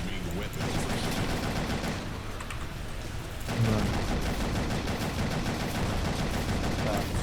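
Tank cannons in the War Riders blockchain vehicle combat game fire in rapid, continuous bursts, a dense rattling barrage that runs almost the whole time with only a brief dip midway.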